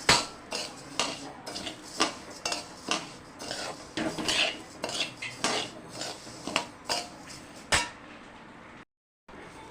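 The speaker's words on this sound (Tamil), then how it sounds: "இப்போ அரிசியை வறுத்துக்கலாம்" Dry rice being roasted and stirred in a pan for porivilangai urundai, heard as a steady run of close scraping and clinking strokes from a utensil against the metal pan, with a short silent gap near the end.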